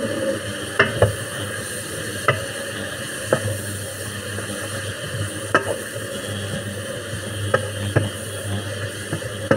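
Soy sauce hits hot sesame oil in a pan and fries with a steady sizzle. Sharp utensil clicks and scrapes recur as the mixture is stirred.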